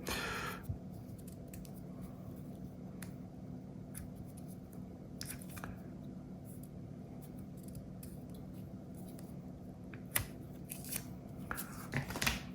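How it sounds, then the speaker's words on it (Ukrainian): A paper-wrapped roll of commemorative coins from the National Bank of Ukraine is carefully unwound, giving soft, faint rustling and papery crinkles with occasional small clicks over a low steady background hum. "відкрили ми рол і починаємо охайно його розмотувати"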